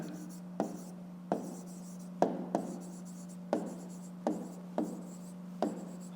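A pen writes a fifth-grade math answer by hand on paper, with a series of short scratchy strokes, about eight distinct marks at an even pace, close and quiet over a faint steady hum.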